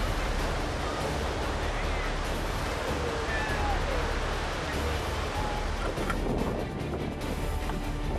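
Rough ocean waves surround a small wooden fishing boat about 10 m long off Mauritania, a continuous loud rushing wash of water and wind without pause.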